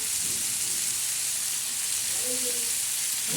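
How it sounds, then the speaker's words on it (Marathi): Bitter gourd slices hiss and sizzle steadily in a hot pan with onion, garlic and chilli, a continuous close frying crackle with a brief voice and faint stirring near the end. "आता याच्यावर आपण टाकणार आहे कारले हे बघा कारले टाकून द्यायचे"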